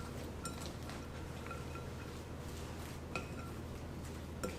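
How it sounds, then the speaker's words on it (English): A wire whisk stirs dressing into coleslaw in a bowl, giving faint, scattered metallic clinks and scrapes against a soft steady background. "I'll just use my wire whisk. And I'm going to stir this into my coleslaw."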